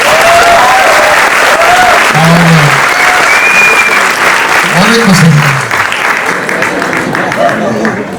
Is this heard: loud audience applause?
yes